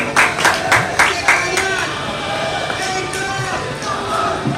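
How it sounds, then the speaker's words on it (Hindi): Audience applause for a singer called to the stage at a Krantikari Jayanti celebration, strong claps at the start that settle into sustained clapping, with voices mixed in underneath. "बस जोरदार तालियां इनके लिए हो जाए दोस्तों"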